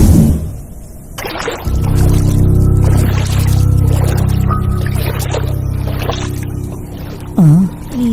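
Heavy rain pours down in a dense, steady roar that fills the air close by, with the wash holding throughout and a short murmur near the end.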